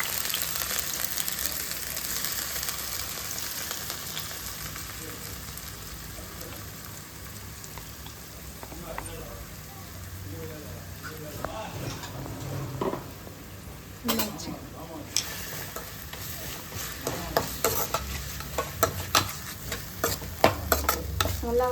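Onions sizzle in hot oil in a home kitchen while a spoon stirs them. The frying is a quiet, steady crackle at first, then louder scrapes and clatters toward the end.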